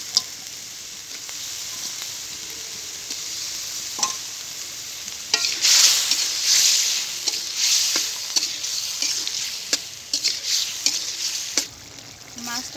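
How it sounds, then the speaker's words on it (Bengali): Small fish sizzle in spice paste in a pan for a spinach and small-fish curry, a steady close frying crackle broken by repeated clicks and scrapes of stirring. "মশলা কষানো হয়ে গেছে, এখন আমি মাছগুলো দিয়ে দেবো।"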